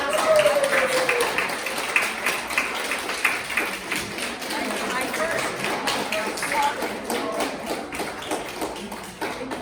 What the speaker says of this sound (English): Round of applause, that was fantastic.